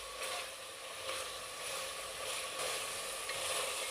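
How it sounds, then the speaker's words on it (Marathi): Mutton sautéing in oil in a pan, a steady soft sizzle with light stirring scrapes, close and fairly quiet throughout. "सुरुवातीला आपण मटण जेवढं चांगलं परतून घेऊ तेवढी मटणाला चांगली टेस्ट येते, म्हणून एक 5 मिनिटं तेलावरती चांगलं परतून घ्यायचे"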